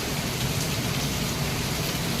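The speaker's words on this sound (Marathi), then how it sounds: "हा पाऊस काय थांबायचं नाव नाही घेत" Heavy monsoon rain falls steadily on a ride to Raigad, making a dense, even wash of drops with no pauses and no speech.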